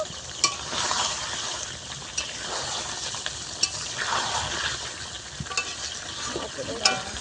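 A spoon stirs chicken and potatoes frying in a pan, soft sizzling under intermittent scraping and clinking strokes against the pan, close and moderately quiet with no talking.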